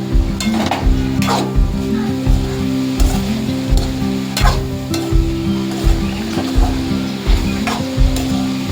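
A spoon stirs green beans thoran with coconut oil in a hot pan, scraping in a steady repeating rhythm over a constant close sizzle of frying.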